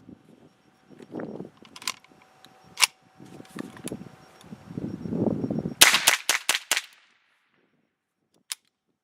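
A Chiappa M4 .22 LR rifle fires in rapid succession: about six sharp, loud cracks in a quick burst, then one more lone shot a moment later. Softer handling noises and murmuring come before the volley.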